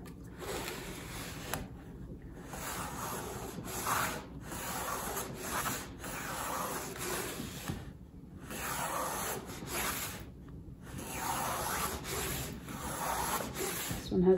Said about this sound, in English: I have my plane set for a fairly aggressive cut, so pretty quickly I'm getting a nice, smooth, continuous shaving off the side of that veneer